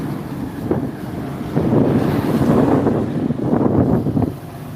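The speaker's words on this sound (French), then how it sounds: "Le vent là." Gusty wind outdoors near Cotonou, Benin, buffeting the microphone, a loud rumbling roar that swells and eases in waves over a few seconds.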